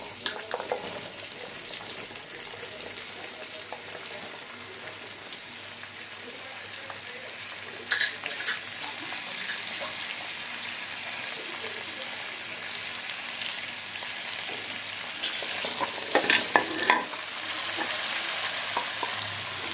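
Peeled shallots frying in oil, a soft continuous hiss with occasional louder bursts of stirring and crackle, fairly quiet throughout.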